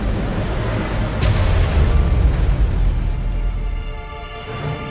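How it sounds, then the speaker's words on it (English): Nuclear weapon explosion in Command & Conquer: Rivals on Android: a loud, deep rumbling blast that swells suddenly and then rolls on as a sustained roar, fading slowly. "Defense on nuclear weapon launched."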